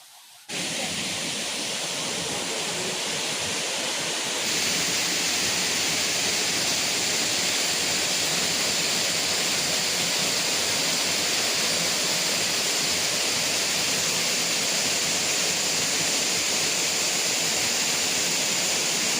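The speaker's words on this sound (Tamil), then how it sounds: "கிட்ட நடந்து போக போக ஃபால்ஸோட சத்தம் வந்து வர ஆரம்பிச்சிருச்சு." The White Surf waterfall at Hut Bay in Little Andaman gives a loud, continuous roar of rushing water that rises sharply at the start and then holds a steady, dense hiss, heard from nearby.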